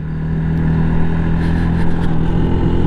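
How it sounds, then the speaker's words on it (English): Yamaha MT-125 motorcycle on a ride, a steady close engine drone holding an even pitch throughout with constant road and wind noise, no talking. "out on my last ride on the little MT"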